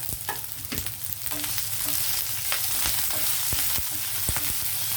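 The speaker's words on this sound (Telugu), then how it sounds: "కరివేపాకు వేసినప్పుడు నూనెలో పేలుతాయి కదా" Chopped onion and curry leaves crackling in hot oil in a pan, a loud, continuous sputtering sizzle with sharp pops scattered throughout.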